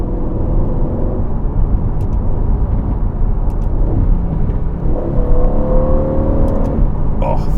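A 503 hp Aston Martin Vantage rumbles and whirs loudly from inside the cabin while being driven, with engine pitch shifts as it drops through the gears and a person talking over it.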